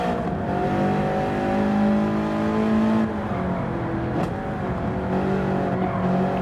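A race car engine in Gran Turismo 7 drones loudly and steadily, its pitch rising and falling through gear changes as it holds a close, sustained roar, with a brief sharp whoosh partway through.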